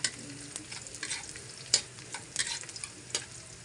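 Onions frying and sizzling in a pan for pancit, a steady soft hiss with occasional clicks of stirring, quiet and close.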